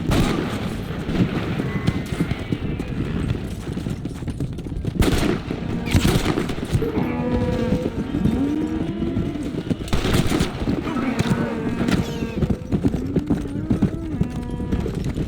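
Cattle moo repeatedly in the Red Dead Redemption video game, with low drawn-out calls under bursts of gunfire and clopping hooves. The calls come through a busy, loud scene.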